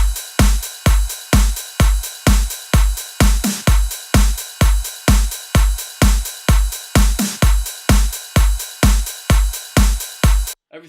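A full drum mix featuring a Vengeance ride sample plays on its own, with steady punchy kick and snare hits repeating in a tight, even rhythm and bright cymbal wash above, loud and close before stopping abruptly.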